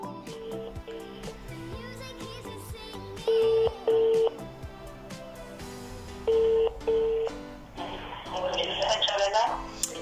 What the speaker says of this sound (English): So let me call Uyajola 99.